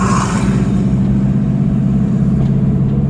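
Steady street traffic in Baguio City, with a loud, continuous car engine rumbling up close and revving slightly, without a break and with no voices.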